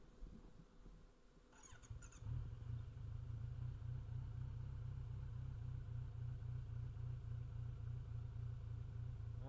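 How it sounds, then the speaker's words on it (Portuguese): Motorcycle engine idling low and unevenly on a stalled-idle fault, a steady close rumble that settles in after a brief start, running alone with no talk. "Minha moto tá sem lenta, cara."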